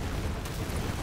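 An explosive gun in Tiny Tina's Wonderlands goes off in a short, dense blast of booming noise, loud and close, over roughly a second.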